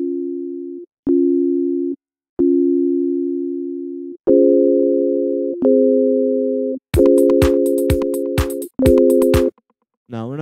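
Synthesizer sine-wave tones sound in loud, steady held notes separated by short gaps, stepping up to a higher chord-like pitch partway through, followed by a rapid burst of stuttering pulses.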